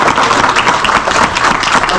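Loud, close audience applause rolls steadily for two seconds at a business gathering, dense and continuous with no voices over it.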